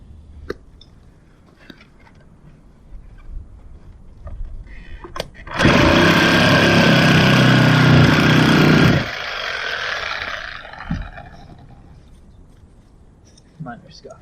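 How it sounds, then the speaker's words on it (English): Sawzall reciprocating saw cutting the tip off a jet boat steering part, a loud, dense buzzing burst lasting about three and a half seconds, then stopping, with quieter workshop handling noises before and after. "I guess I'll get in there with a Sawzall and"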